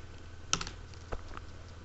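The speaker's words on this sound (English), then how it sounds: "Type in your name. I just type in mine." Typing on a computer keyboard while installing Windows 95, with a few sharp keystrokes spaced out over about two seconds, close and fairly quiet, and no voice.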